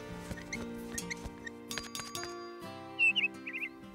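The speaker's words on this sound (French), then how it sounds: "J'adore t'entendre gazouiller." Light music with plucked notes plays, then a few short, bright chirps from a cartoon bluebird trill near the end.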